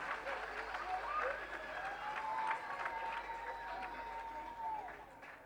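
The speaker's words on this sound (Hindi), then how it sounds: "एक बार फिर तालियां बजा के इनको प्रोत्साहित कीजिए।" Audience applause fills the hall at the Sahyog Foundation awards ceremony, a steady, moderately distant wash of clapping with a faint tonal voice or music line running through it.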